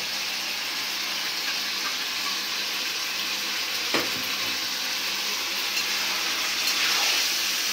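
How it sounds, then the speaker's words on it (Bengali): Meat and lentils being sautéed together in a pan in a village kitchen, a constant loud sizzle with occasional stirring scrapes, heard on its own without speech. "মাংসটা কষানো হয়ে গেছে। এখন ডাল দিয়ে কষাই নিব।"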